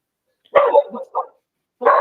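Dogs give a short burst of two or three close, sharp barks, go quiet, then bark once more, standing alone against silence.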